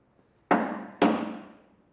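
Two sharp hammer blows strike a metal part on a broken-down hydraulic machine, each ringing briefly and decaying, spaced about half a second apart, close and loud with no talking.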